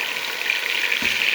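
Chicken pieces frying with onions in a pan, a loud steady hiss of sizzling oil with a soft low bump near the end.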